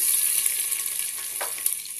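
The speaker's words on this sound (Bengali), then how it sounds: "সবগুলো অল্প ভেজে নেব।" Garlic, onion and bay leaf fry in hot oil in a pot for a handi chicken curry. A bright, steady high sizzle continues throughout, with a couple of faint stirring clicks and no voices.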